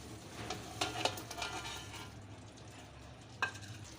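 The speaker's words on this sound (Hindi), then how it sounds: "अब हम इसके अंदर चिकन डाल लें।" Chicken stirred into homemade biryani masala in a cooking pot, a close, steady sizzle and scraping stir with a couple of louder clatters, no voices.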